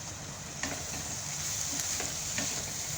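Paneer bhurji frying in a pan with spices and salt, giving a steady close sizzle throughout, with a few soft scrapes of the spatula as it is stirred.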